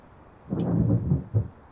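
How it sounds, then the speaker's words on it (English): Loud real-life thunder rolls in as one deep rumble that swells for about a second and surges again briefly before fading, with no talk over it. "there was some loud thunder in real life"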